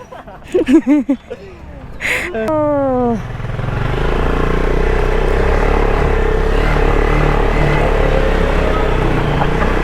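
A motorcycle engine starts up and settles into a steady, loud idle rumble close by, after a few seconds of vocal sounds and clatter at the start.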